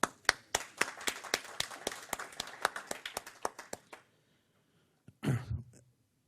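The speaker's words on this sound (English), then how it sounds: "So I think we should really applaud them." A small audience applauds at a talk on Israeli natural gas and oil development, with sparse, distinct claps from a few nearby hands for about four seconds, then silence and a short cough.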